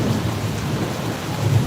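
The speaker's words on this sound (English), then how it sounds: "But it is like pouring rain right now." Heavy rain pours down in a city park in Medellín, a steady, loud, dense wash of water with a deep rumbling low end, filling the whole moment without any voices.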